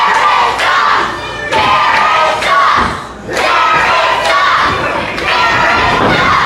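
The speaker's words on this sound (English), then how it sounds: "The crowd letting Derek Gage know how they feel as he enters in" Wrestling crowd roars and jeers as Derek Gage makes his entrance, a loud surging wall of shouting voices rising and dipping in waves, with occasional heavier swells, no clear commentary over it.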